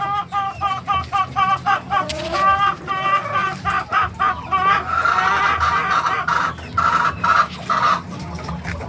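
Sixteen-week-old young hens clucking and murmuring close by in a loud, busy chorus of overlapping calls with repeated rising trills, no voices over them.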